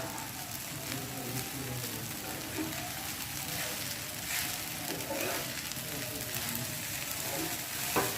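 Sabudana khichdi fries in a pan while being stirred, a steady dense sizzle with scraping texture running throughout, close and even in loudness.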